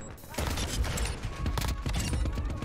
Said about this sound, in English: There's no reason for the Deagle to be shooting this fast.